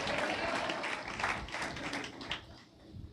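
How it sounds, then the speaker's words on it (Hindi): A church congregation claps in thanks during a Hindi-language sermon, making a dense, sustained wash of many hands that thins out toward the end. "ताली बजा के प्रभु को धन्यवाद दीजिए"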